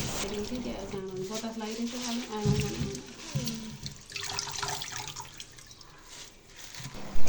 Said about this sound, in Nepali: हामीले यसरी सिस्नो केलाइसके पछाडि सफा पानीले हामीले यसलाई पखाल्नु